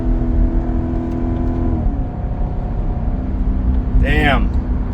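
A 640-horsepower Cadillac CTS-V engine drones loudly, drops in pitch at a gear change, then revs sharply upward again, heard from inside the car.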